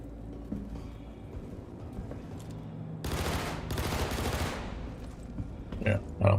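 Automatic gunfire rattles in the Star Citizen video game during a bounty hunt, a few seconds of dense rapid bursts rising over a low ambient hum, with brief clipped sounds near the end.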